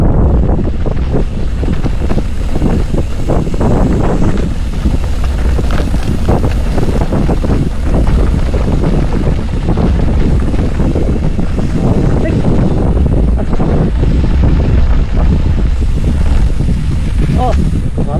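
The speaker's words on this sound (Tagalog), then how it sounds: "Oh, hangin." Strong, steady wind buffeting the microphone on a mountain bike trail on Mount Tinc, Bulacan, with a constant low roar throughout, loud and unbroken, with faint rushing like water or waves underneath.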